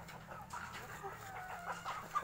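Gold 20G plucker heritage chicken, a US-line free-range bird, clucking softly and intermittently in a quiet yard, several short calls over low background noise.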